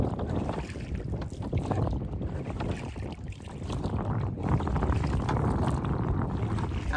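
A rowing boat being rowed into the wind on water near Gibraltar, with splashing and wind buffeting the microphone in a rough, continuous wash.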